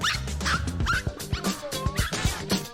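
Dogs in a street setting in Taipei, Taiwan, giving several short barks and yips mixed with whimpering, fairly close and repeated in uneven bursts.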